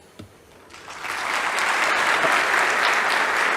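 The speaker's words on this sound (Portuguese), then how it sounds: "Palmas, palmas, palmas." An audience at a tech talk on design systems breaks into applause, starting with a lone clap, then swelling within a second into sustained, dense clapping from a crowd that holds steady to the end.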